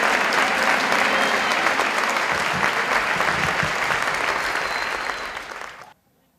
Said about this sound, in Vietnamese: Một tràng pháo tay cho Liêm Nguyễn nha.